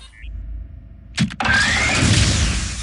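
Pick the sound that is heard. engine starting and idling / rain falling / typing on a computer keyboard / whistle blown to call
engine starting and idling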